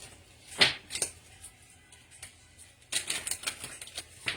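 Tarot cards being shuffled by hand, giving a quick burst of riffling followed after a pause by a longer run of rapid papery flutters, close and fairly clear.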